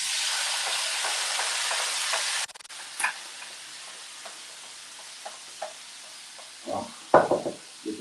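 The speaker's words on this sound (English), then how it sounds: "You hear that sizzle?" Seasoning sautéing in a pot for curry: a steady hiss of sizzling fades down after a couple of seconds, followed by quiet crackles and a few knocks of stirring utensils against the pot.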